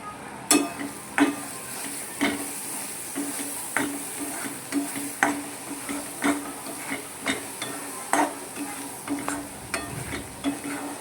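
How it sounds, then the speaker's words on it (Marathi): Homemade red chilli powder, coriander powder, garam masala, black masala and turmeric roasting in a pan for a rajma curry, with a steady sizzle broken by repeated scrapes and taps of a spoon stirring against the metal. "जरा वेळ भाजला बघा मसाला."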